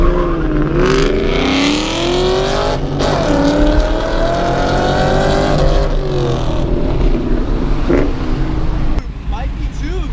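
A full-bolt-on 2003 Mustang Mach 1 and a stock 2015 Mustang GT accelerate hard. Loud, close engine roar climbs in pitch through rising sweeps with shift breaks, and voices are heard over the noise.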